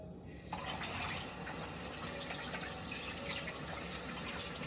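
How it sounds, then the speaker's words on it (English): Kitchen tap water running steadily into a sink while hands are washed during cooking, a continuous close splashing hiss starting just after a brief quieter moment at the very beginning. "We're gonna wash our hands"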